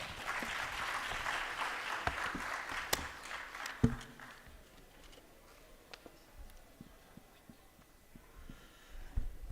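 Applause from the audience at a national cancer summit, a fairly faint crowd of clapping hands that swells briefly and then thins into scattered claps.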